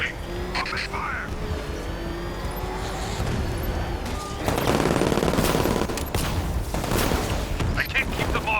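Sustained automatic gunfire from enemy forces in Batman: Arkham Knight, steady bursts over rumbling game noise that grow louder and denser midway, with talk heard over it.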